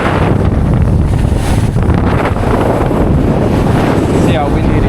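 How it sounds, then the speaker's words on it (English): Strong wind buffets a fishing boat crossing choppy water on the Hawkesbury River, a loud, constant rushing roar that blasts the microphone and mixes with the splash of waves. "See how windy it is there"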